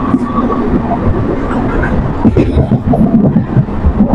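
A local train pulls out of Panagarh railway station at night, heard from inside the carriage as a loud, steady rumble with rattling wheels and faint voices in the background.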